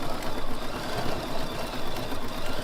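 A BERNINA embroidery machine stitches a design one stitch at a time, giving a close, steady, rhythmic mechanical whir and pulsing chatter with no voices.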